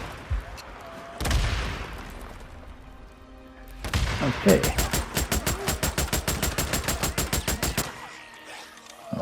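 Rapid automatic fire from an M50 Reising in the video game Days Gone, a loud close burst of evenly spaced shots after an earlier single blast, with a brief spoken word in between.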